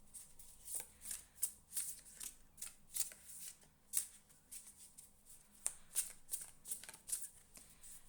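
Tarot cards being shuffled and picked from a deck, with crisp papery riffles and flicks in irregular bursts, near and fairly quiet.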